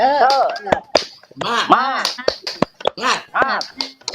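A class chants in unison in Indonesian, punctuated by sharp rhythmic claps in quick bursts between the chanted phrases, loud and close.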